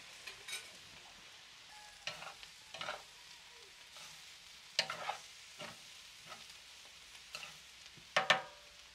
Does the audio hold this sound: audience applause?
no